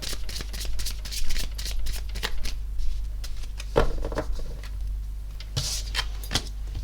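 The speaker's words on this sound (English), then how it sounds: "I really shuffled" Tarot cards being shuffled by hand, a run of soft riffling and papery slaps with irregular rhythm, close and fairly quiet over a low steady hum.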